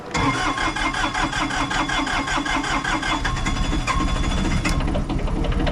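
Skid steer diesel engine starting up on a cold morning, a cranking churn that catches into a loud, rough, steady clattering idle, close by with no talk.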